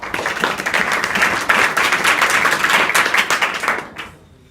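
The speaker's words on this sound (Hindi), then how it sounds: "तो पहले तो एक दूसरे को ताली बजाओ।" Students in a classroom at an adolescent education session clapping for one another, a dense, steady burst of applause that fades out abruptly near the end.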